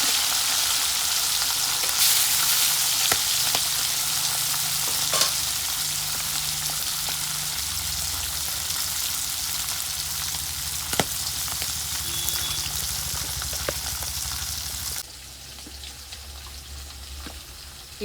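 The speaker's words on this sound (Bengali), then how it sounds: "ইলিশ মাছ তো হালকা করে ভেজে নেব।" Hilsa fish frying lightly in oil for a hilsa and eggplant curry, a steady broadband sizzle with scattered crackles and pops, close and fairly loud, easing down for the last few seconds, with no voices.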